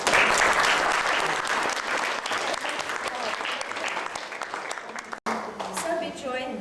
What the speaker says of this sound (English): let's give God another clap